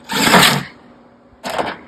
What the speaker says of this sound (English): Now when I go through 2 pieces of metal, even though these screws are self-tapping, I'll hit the back of the drill.